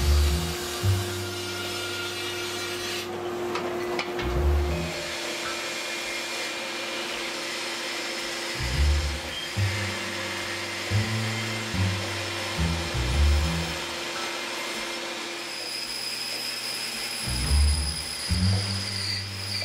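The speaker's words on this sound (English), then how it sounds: "So that bandsaw work is about the most nerve-wracking for me" Bandsaw cutting a laminated wood canoe paddle blank: a steady motor whine runs throughout, broken by repeated louder, rougher bursts as the blade bites into the wood, with no talking.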